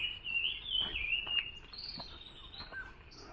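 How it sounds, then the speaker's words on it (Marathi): Birds call across open farm fields during the rainy season, faint high chirps and thin whistled notes repeating over a quiet background. "ते बिचारे ओरडत असतात बांगडत असतात त्यात खरकुंट्या ओरडतात"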